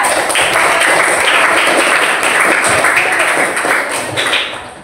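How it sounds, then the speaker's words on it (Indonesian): A classroom full of people applauding a group presentation, dense steady clapping that fades slightly at the end. "Tepuk tangan untuk kelompok 3"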